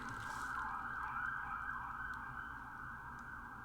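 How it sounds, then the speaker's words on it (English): A fire truck siren wails steadily as the vehicle passes by, loud and sustained throughout, fading slightly toward the end with no talking over it. "They had a fire truck going by."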